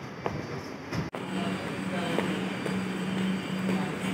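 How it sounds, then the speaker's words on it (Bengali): A metro train at Shyambazar metro station gives a steady, fairly loud rumble and drone throughout, with a low hum and a brief sharp dropout near the start, against busy station ambience with faint voices. "আমরা যে মেট্রো স্টেশনে এসে গেছি মেট্রো উঠব বলে"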